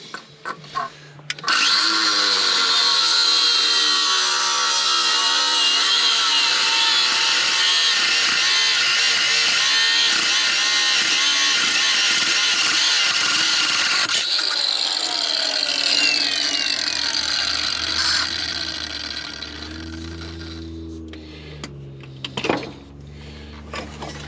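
A high-pitched power tool whines steadily for about fifteen seconds while cutting underneath a Jeep near a brake line, then winds down into lower rattling and clunks as work under the vehicle continues.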